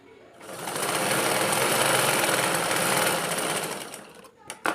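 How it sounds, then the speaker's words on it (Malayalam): A sewing machine runs one long steady burst, stitching over the neck and shoulder seam of a nighty, then slows and stops with a few mechanical clicks at the end. "ഇനിയിപ്പോൾ നമുക്കതിൻ്റെ മുകളിലോട്ടായിട്ട് ഒരു സ്റ്റിച്ച് അങ്ങോട്ട് ചെയ്യാം"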